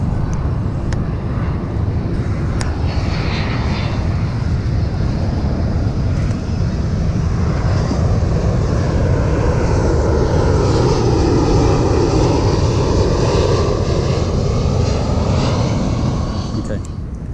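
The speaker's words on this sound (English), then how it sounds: "It's a plane." A propeller airplane passes overhead outdoors at a fishing spot, its engine drone loud and sustained, swelling and shifting in pitch as it goes by, with wind buffeting the microphone.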